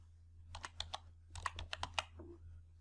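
Quiet, close computer keyboard typing in two short clusters of light key clicks, with a steady low hum underneath and no talk.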